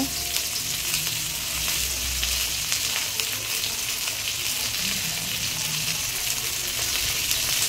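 Garlic paste frying in a pan for a mutton and raw papaya curry, a dense continuous sizzle with soft stirring underneath, loud and close, and no one speaking.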